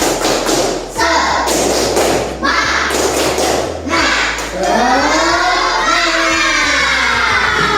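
Schoolchildren in an Indonesian classroom perform a rhythmic clapping chant, sharp patterned claps and thumps alternating with loud sung shouts in unison, close and energetic.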